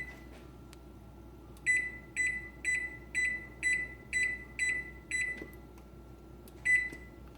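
A kitchen timer beeps in a steady run of about ten short, bright electronic tones, then stops briefly before a final beep, over a low background hum.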